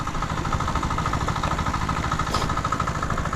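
A borrowed engine runs a water pump, idling at a steady mid-pitched throb with a constant rhythmic chug, close and loud for the whole stretch.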